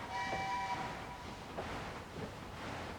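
A train in the Locomoto video game rumbles steadily with a faint horn-like tone early on, a soft and continuous sound without speech.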